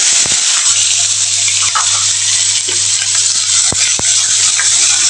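Chopped onions going into hot oil with whole spices for a jackfruit curry, a continuous loud sizzle with a few sharp clicks of a utensil against the pan.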